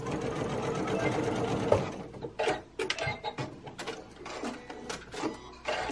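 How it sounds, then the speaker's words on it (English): A sewing machine stitches tape onto a fabric face mask, starting with a steady mechanical hum, then breaking into short bursts of rapid clattering stitches separated by pauses, close up and moderately loud. "I'm just going to give it a little stitch"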